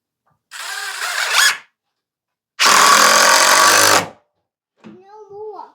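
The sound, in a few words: power drill driving screws into lumber stand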